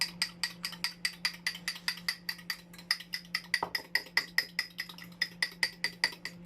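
A fork whisks pancake batter in a bowl with rapid, regular clinking strokes that keep an even rhythm throughout, close and clear, over a faint steady hum and without speech.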